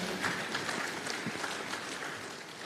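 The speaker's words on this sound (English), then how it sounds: "Can I get a round of applause?" A conference plenary audience gives a round of applause, a steady patter of many hands clapping at moderate distance with no voices over it.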